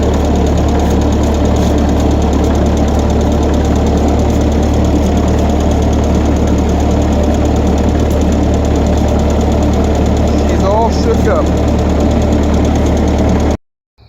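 An old Cheap-built tractor engine idles while warming up, a loud, close, steady mechanical chugging with a persistent knocking rhythm that runs unbroken for most of the clip before cutting off abruptly.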